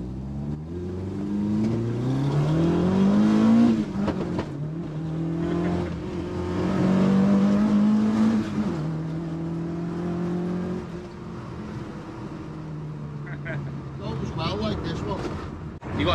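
A Ford Cortina Mk1 engine running while driving, its drone rising and falling with the revs as the car accelerates and settles, heard from inside the cabin under steady conversation between people.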